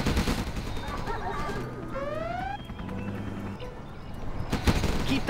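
A Gatling tank in Command & Conquer Generals Zero Hour fires a sustained, rattling stream of rapid shots at moderate distance, mixed with battle noise and bursts of in-game unit voices.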